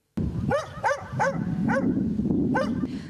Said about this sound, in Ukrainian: На згарище у дворі прибіг пес, хоче захищати вже нічого.